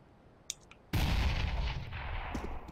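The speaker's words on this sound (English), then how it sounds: "that sure was a pretty nice explosion" Counter-Strike: Global Offensive explosion and gunfire, a few faint shots, then a sudden loud blast that rumbles on and slowly tapers, with scattered crackles through it.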